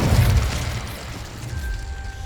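A fire spell is cast in Hogwarts Legacy, a loud burst of roaring flame that rushes out at once, then settles into a steady crackling whoosh with a faint tonal hum over it.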